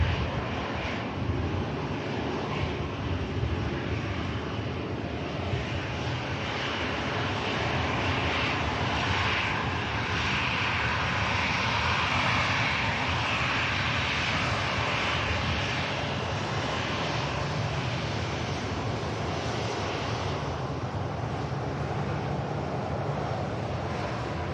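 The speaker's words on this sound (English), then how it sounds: "Next out, the Ryanair for Dublin." Engines roar from a Ryanair airliner departing Manchester Airport for Dublin, a loud, steady, broad rumble that holds for the whole span without fading, with no talking.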